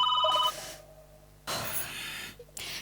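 A telephone rings in two loud electronic bursts separated by a quiet pause, with a third ring starting at the end.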